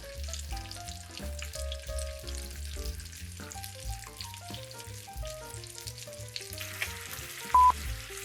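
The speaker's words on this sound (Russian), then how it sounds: "куриную грудку нужно обжарить со всех сторон, постоянно перемещая ее по дну сковороды" Chicken breast frying in a pan, a continuous soft sizzle and crackle as the meat is moved around the pan, with faint background music and no talking.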